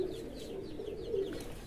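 Racing pigeons coo softly on a loft, a low murmuring call that repeats through a brief moment with faint chirps above it.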